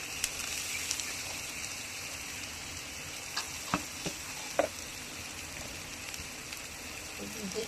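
Food frying in a wok over a lowered gas flame after salt and turmeric go in, giving a steady broadband hiss with a few faint clicks and pops; no voices.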